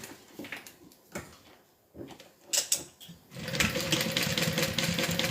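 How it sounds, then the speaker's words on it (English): A sewing machine top stitches at a long 5 stitch length, first in short stop-start bursts and then in a continuous, fast mechanical run, close and clear with no speech. "now we're just going to do a top stitch right along the top of it"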